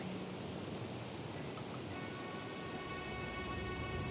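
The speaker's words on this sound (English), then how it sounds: "The rain starts, and it's pouring all over the place." Steady heavy rain pouring down, a dense continuous hiss of drops spread across the whole scene, with no voices.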